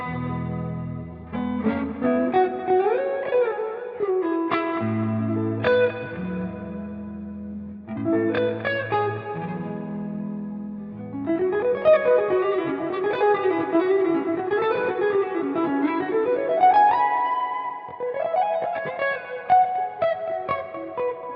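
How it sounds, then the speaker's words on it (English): An electric guitar runs through pentatonic scale lines with distortion, echo and chorus effects, a clear solo melody of sustained bends and quick phrases, loud and alone without talking. "play some lines on the guitar just with a pentatonic scale"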